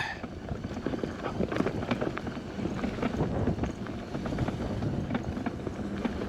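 An IsinWheel GT2 electric scooter ridden in turbo mode, giving a continuous rough rolling rumble with wind buffeting the microphone and bumpy knocks, steady and close, with no talk.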